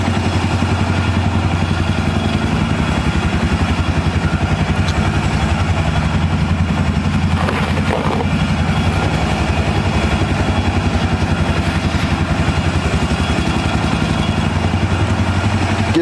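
A Suzuki LTZ250 quad's engine idles steadily for the whole stretch, a close, even low chug with a faint mechanical clatter and no voices.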